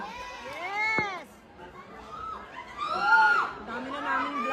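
Audience at a backstage celebrity visit shouting, cheering and screaming together, a dense excited roar with shrill squeals rising above it, steady and loud throughout.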